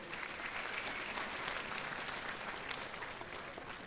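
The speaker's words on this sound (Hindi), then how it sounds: "एक बार जोरदार तालियां हो जाएं इनके लिए।" Audience clapping at a school event at Acharyakulam in Haridwar, a dense, steady burst of applause from a crowd, fairly faint and distant, lasting a few seconds with no talk over it.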